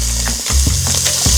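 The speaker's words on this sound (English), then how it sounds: "once it's heated, we're gonna add our chicken. Skin side down. You'll know it's hot when it's sizzling." Chicken pieces for adobo hit hot oil skin side down, giving a loud, steady frying sizzle with a few brief louder crackles over just over a second, close to the pan.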